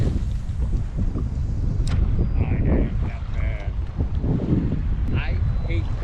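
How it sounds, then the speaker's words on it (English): Wind blows steadily over the open water of Chesapeake Bay during kayak fishing above grass flats, a constant rushing roar with microphone buffeting and faint water movement, and someone speaks briefly over it. "this wind is picking up pretty good"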